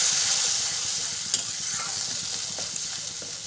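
Spice paste frying in a pan for a besan omelette gravy, a steady close sizzle with bright crackling throughout and occasional stirring scrapes, no voices.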